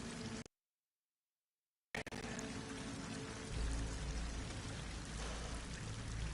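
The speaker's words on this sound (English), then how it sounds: "Water's coming in. From the surface." Water pours in from the surface inside an underground space in Horizon Forbidden West, a dense continuous rushing splash that cuts out briefly and then resumes. A low rumble swells beneath it partway through.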